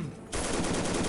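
A World War II machine gun rattles in the game Soldiers: Heroes of World War II, opening after a brief lull into a loud, rapid, continuous burst of evenly spaced shots, close and with no voices.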